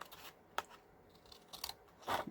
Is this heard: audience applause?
no